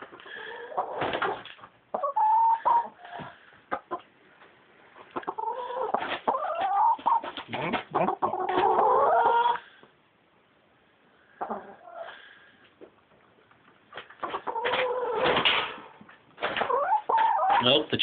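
Chickens clucking and squawking close by in bursts, with a voice talking intermittently over them.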